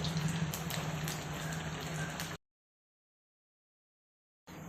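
Corn cutlets frying in oil in a pan over low heat: a steady, close sizzling hiss that cuts out suddenly into silence for about two seconds, then resumes.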